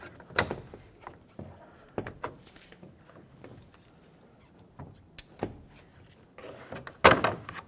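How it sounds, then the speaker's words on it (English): Plastic trim tool prying the rear exterior door handle out of a 2000-2005 Ford Excursion door, a series of short plastic clicks and scrapes close by, ending in a sharper pop as the handle comes free. "With a plastic trim tool, remove the door handle from the outside. Just pry it out."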